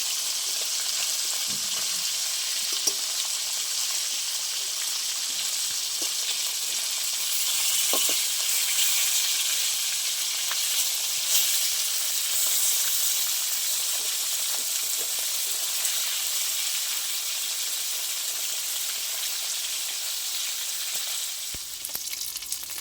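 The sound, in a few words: fish frying and sizzling in oil while being flipped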